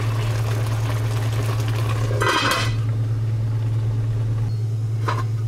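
A pot of Congolese oxtail stew on the stove gets its lid set on with one bright metallic clatter midway, then a faint clink near the end, all over a steady low hum.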